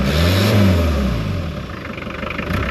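A Daihatsu Fourtrak with an aftermarket exhaust and no air filter revs loudly close by, the engine surging briefly and then settling back into a rough, throaty idle.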